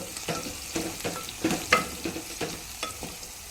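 Onions and vegetables with turmeric frying in a pan for curry while being stirred, giving a continuous sizzle broken by repeated scraping strokes of a spatula, close and without speech.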